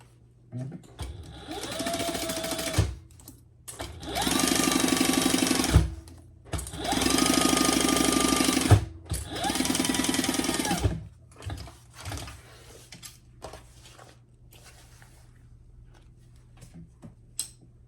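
A domestic sewing machine stitches lined pouch pieces together in three long steady runs with short pauses between, loud and close, followed by quieter handling clicks.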